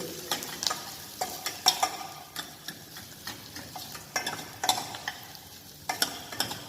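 A ladle stirring vegetables in a broad bean soup, with scraping knocks against the pot recurring in an irregular rhythm over a soft bubbling sizzle, close and without speech.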